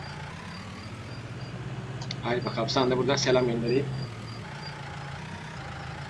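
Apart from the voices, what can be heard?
tractor engine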